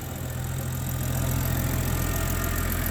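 An $800 BMW 330i, with a faulty VVT motor, idles steadily just after its first startup, a continuous low engine drone with an even, unbroken rumble at close range.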